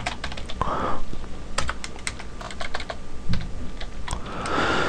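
Commands typed on a computer keyboard into a Linux terminal on Ubuntu, a steady run of close, crisp key clicks with irregular rhythm and a few heavier keystrokes, no talking.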